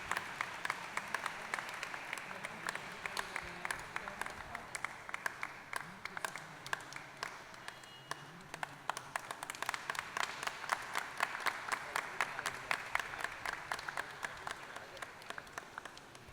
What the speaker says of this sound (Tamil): கைத்தட்டி நமது பெரும் மகிழ்வினை அவர்களுக்கு தெரிவிப்போம்.